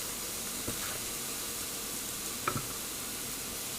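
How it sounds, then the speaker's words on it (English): NY strip steaks sizzle on a hot grill with a steady, soft frying hiss throughout, broken by a couple of brief sharper crackles, heard fairly close with no voices. "That good sizzle."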